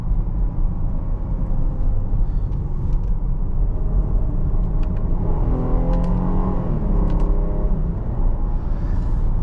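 A 2022 Jeep Grand Cherokee Overland with a ZF 8-speed automatic accelerates, its engine hum building as the cabin fills with a steady, loud low rumble and faint road noise.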